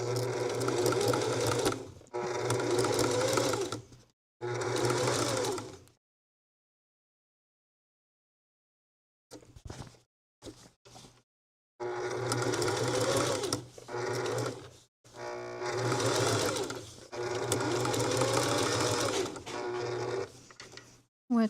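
A sewing machine stitching a rope bowl runs in several loud, close bursts of rapid mechanical whirring, separated by short pauses and one long silent gap.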